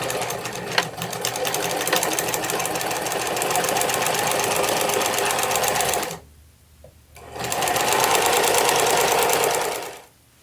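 Sewing machine stitching a thin lining seam on a quilted tote, a fast, even mechanical whir running continuously, pausing briefly midway before resuming, then stopping; close and loud.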